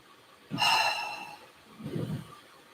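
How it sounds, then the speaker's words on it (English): One slow, audible breath during a gentle yoga session: a soft, airy inhale followed after a short pause by a quieter exhale, heard up close with no talking. "first connecting to your breath. Inhales and exhales."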